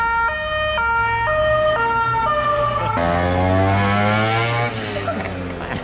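A police siren wails loudly and close in a city street, shifting from a stepped two-tone pattern to a fast warbling sweep as the vehicle passes.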